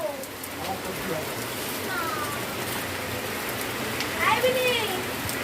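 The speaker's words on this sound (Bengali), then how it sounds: "শুরু হয়ে গেল বৃষ্টি" Continuous rain hisses evenly in the background, with a few faint voices and chirpy sounds drifting over it.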